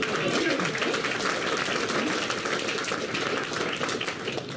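Applause from a press conference audience fills the room, a steady wash of many hands clapping that holds level and tapers slightly toward the end.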